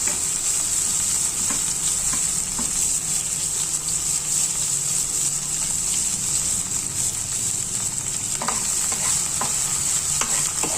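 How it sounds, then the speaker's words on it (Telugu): Steamed cauliflower stalk pieces frying in oil in a pan, a continuous loud sizzle with occasional stirring scrapes and clinks, with no talking. "ఈ ఆవిరిలో ఉడకబెట్టిన ముక్కలు కూడా ఇందులో వేసేయాలి."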